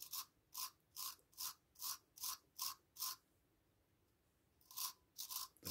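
Wire brush scrubbing a metal carburetor part in rapid, even back-and-forth strokes, close and crisp, with a brief pause before the strokes resume.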